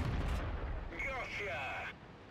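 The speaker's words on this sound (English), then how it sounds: "he lit the artillery" Artillery shells strike in a tank battle video game on the Erlenberg map, heard as a burst of heavy booming impacts at the start, then a quieter stretch with whining, warbling tones before the noise drops away.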